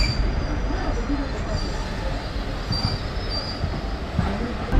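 A passenger train runs on the Trichy to Villupuram line near Poovanur station. Its steady loud rumble of wheels and carriage noise comes with a faint high wheel squeal throughout.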